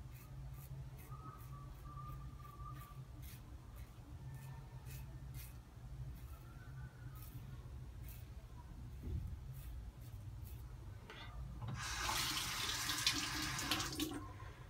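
Water from a faucet gushes loudly for the last few seconds, rinsing a shaving razor over a sink during a wet shave, following a quieter stretch of faint handling noises.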